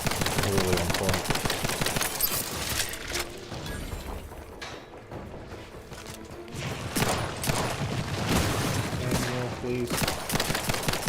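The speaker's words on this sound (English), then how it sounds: "this pistol is good. Damage isn't like highest, but the rate of fire is really on point" Rapid pistol gunfire in the video game The Outer Worlds 2, a steady stream of quick shots mixed with mechanical clicks and game effects, with a brief voice heard once.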